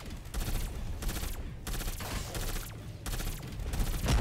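Wonder Weapon fire in Cold War Zombies plays as repeated loud bursts of rapid gunfire, several volleys separated by short gaps, close and dense.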